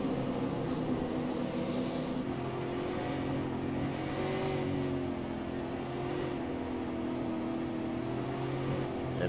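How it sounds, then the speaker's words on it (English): Race cars circle a track on a warm-up lap before a 50-lap race, their engines a steady, continuous drone that hums without pause and stays at an even level throughout. "they'll be doing one more warm-up lap here as they come around and get ready to start this 50-lap race here"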